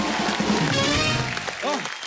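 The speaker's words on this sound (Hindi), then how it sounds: "एक बार हमारे सभी धुरंधर महारथियों के लिए जोरदार तालियां हो जाए।" A studio audience at a comedy show breaks into applause, a busy wash of clapping mixed with music and a brief voice toward the end.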